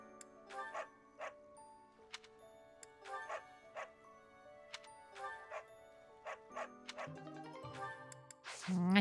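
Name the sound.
dog barking in Fire Emblem Three Houses video game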